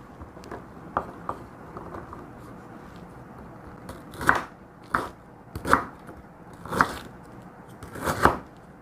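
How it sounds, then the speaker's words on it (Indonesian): A knife chopping lemongrass on a cutting board, a series of distinct close thuds, light at first and then five heavier evenly spaced chops, with no talk. "Sekarang ni akak nak potong sarai."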